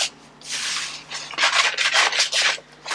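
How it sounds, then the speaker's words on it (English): A sandpaper block rubs lightly over faux leather in short repeated strokes, a soft scratchy swishing that comes in bursts with brief pauses between. "So I've got sandpaper block, so I'm just going to go over this lightly."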